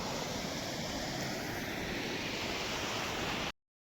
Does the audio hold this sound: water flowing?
yes